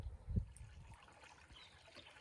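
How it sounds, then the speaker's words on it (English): Water trickles gently over a shallow, unnamed Ozark creek along a hiking trail, faint and steady, with a soft thump near the start and no talking. "Made it to this unnamed shallow creek."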